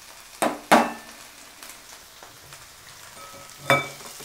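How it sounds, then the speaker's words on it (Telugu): Curry leaves frying in oil for an Andhra-style prawn fry, with a few sharp crackling bursts and spits over a faint low sizzle, close by and without talking. "కరివేపాకు వేసుకొని కరివేపాకు కూడా కొంచెం ఫ్రై అవ్వనివ్వండి"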